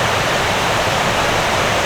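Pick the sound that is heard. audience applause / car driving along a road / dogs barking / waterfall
waterfall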